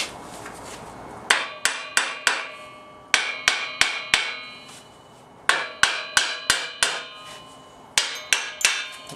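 Close, ringing taps of a copper hammer driving a Porsche 911 housing onto locating dowels, delivered in repeated bursts of about five blows each with brief gaps between, no speech.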